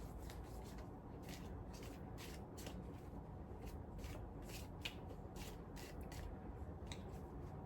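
Tea leaf reading cards being shuffled and handled, with soft, quick flicks and riffles repeating over a constant background hiss. The sound is faint and close, with no voices.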